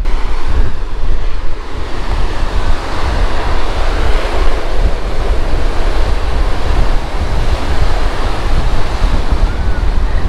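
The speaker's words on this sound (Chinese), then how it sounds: "那个浪打得很高啊，这个浪非常的漂亮啊，打在礁石上面" Ocean waves crash onto rocks along the South Australian coast near Lincoln National Park, a constant loud, close roar of surf with gusty wind buffeting the microphone throughout.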